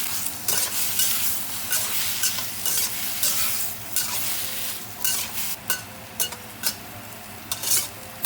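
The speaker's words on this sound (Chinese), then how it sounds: "加1勺盐， 继续翻炒30秒。" Shrimp and egg stir-fried in a wok: a steady hiss of frying under repeated quick scrapes and clacks of a spatula, brisk and close.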